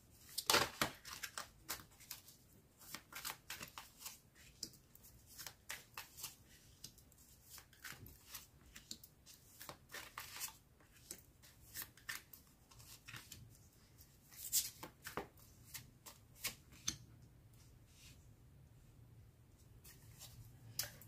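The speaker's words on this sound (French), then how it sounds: "Alors on va déposer les 6 cartes." Cards are laid out one by one on a table in a quiet room, six in all, giving soft scattered slaps, slides and papery shuffles with small pauses between them.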